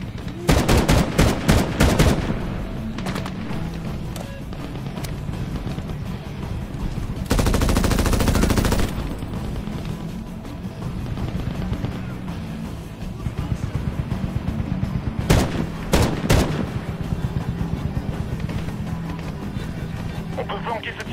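Gunfire in the video game Medal of Honor, loud bursts of automatic fire and single shots near and far over a continuous battle din, with voices talking through it.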